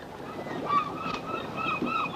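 Seagulls calling in short squawking bursts over a steady seaside wash of wind and surf, fairly distant.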